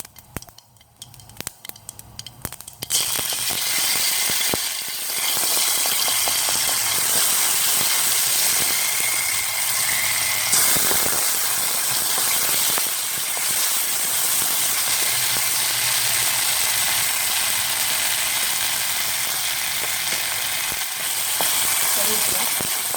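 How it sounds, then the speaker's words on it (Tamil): Ginger garlic paste sizzles and spits in hot oil in a pan that already holds popped mustard seeds and urad dal, in a home kitchen. A steady close frying hiss starts after a few seconds of quieter stirring and runs unbroken to the end. "வெடிச்சதுக்கப்புறமா இஞ்சி பூண்டு பேஸ்ட்டு போட்டுக்கணும்."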